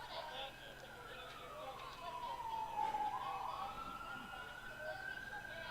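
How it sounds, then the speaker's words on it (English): Emergency vehicle sirens wail near a baseball field, one long rising and falling siren tone, moderately distant and steady under light crowd murmur and voices. "Now something interesting happening probably near College Avenue with the sirens blaring."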